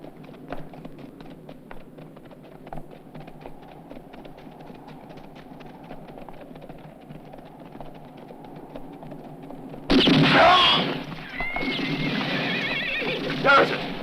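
Horses whinny loudly and close at hand in a western film scene, breaking in suddenly over a steady rumbling background, with several neighs in a row.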